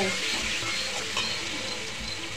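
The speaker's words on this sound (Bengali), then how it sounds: "কচু শাকটা ঢেলে দিলাম আমি এখন, ভালো করে নাড়ি চাড়িয়ে নেব।" Taro greens fry in hot oil while being stirred, giving a loud, steady, close-up sizzle with soft scraping from the stirring throughout.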